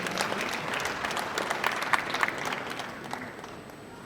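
Wedding guests applaud, a dense, lively burst of many hands clapping together that carries on steadily before tapering off slightly toward the end.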